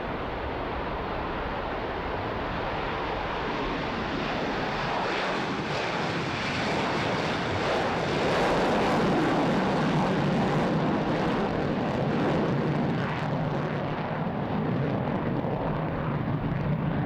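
A supersonic bomber powered by four GE F101 jet engines flies past at an air show, a loud broad roar that swells and peaks mid-pass before easing, with no talk over it.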